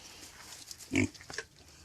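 Vietnamese pot-bellied pigs on a small farm give one short, fairly close grunt amid quiet background snuffling and faint rustling.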